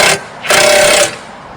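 A power tool tightens the front hub bearing bolts on a Cadillac SRX with the wheel off: a short buzzing burst, then a longer steady whir of about half a second, up close with no talk.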